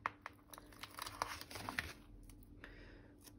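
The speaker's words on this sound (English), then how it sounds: "Get it to peel off." A sun sticker is peeled off its backing sheet in a run of faint, close crinkly tearing and crackling sounds, uneven and quiet with no speech.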